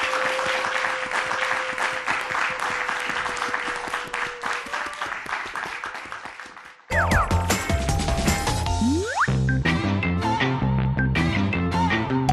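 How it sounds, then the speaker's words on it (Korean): Audience applause welcoming a guest lecturer onto the stage at a Korean talk show event, steady broad clapping for several seconds that gives way to a loud musical sting with mechanical clanks. "김은실 컨설턴트를 큰 박수 모시겠습니다"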